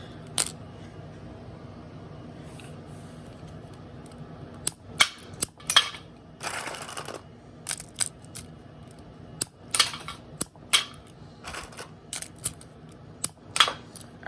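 Smash Dragold B-Daman toy launcher firing marbles in an accuracy test, giving a string of sharp snapping clicks at irregular intervals, some in quick pairs, close and fairly crisp over a low background hum.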